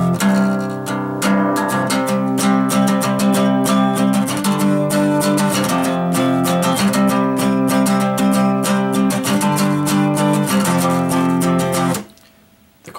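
Guitar playing a pop-punk song from verse into chorus, a continuous driving strummed chord pattern, close and loud, ending abruptly after about twelve seconds with no talk.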